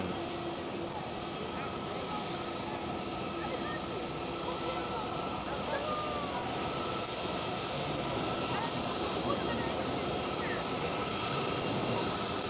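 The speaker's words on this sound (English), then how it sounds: "And another Delta Airlines is arriving, but that one will go towards Delta 10." A Delta Air Lines airliner arrives at Amsterdam Schiphol, a steady jet engine rumble and whine held at moderate distance throughout, with faint voices and airport background mixed underneath.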